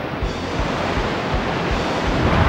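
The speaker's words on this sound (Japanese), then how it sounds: "ここで波乗りだ" Surf attack in the Nintendo 64 game Pokémon Stadium 2, a loud, steady rush of crashing wave noise that fills the whole clip with no voices.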